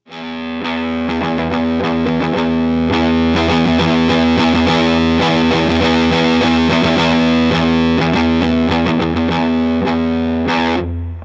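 Electric guitar run through a Big Muff Wicker fuzz distortion pedal, a thick, aggressive, saturated tone with rich sustained harmonics and repeated picked notes and chords, loud and continuous for the whole stretch before cutting off.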